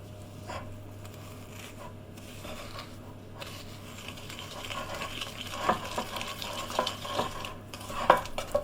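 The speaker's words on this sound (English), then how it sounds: "the creaming method means creaming together, blending together the sugar and the butter" Butter and sugar are creamed by hand with a spoon in a bowl, with soft rhythmic scraping and mixing that grows busier and is punctuated by light clinks of the spoon.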